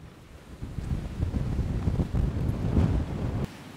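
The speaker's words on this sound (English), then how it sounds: "The wind is mad today." Strong gusty wind buffets the microphone on a coastal road in Cap Corse, Corsica, during a motorcycle tour, a loud continuous roar that swells and eases before dropping off near the end.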